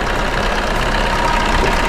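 A Maruti Vitara Brezza's 1.2 litre diesel engine idles loudly and close by, a steady rough rumble with a faint knocking texture throughout.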